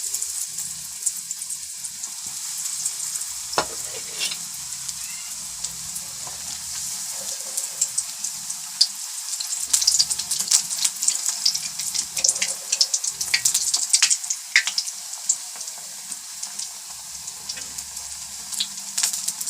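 Bread slices frying in ghee over medium heat for shahi tukray, a steady crackling sizzle with scattered sharp pops that grows busier partway through, with no talking.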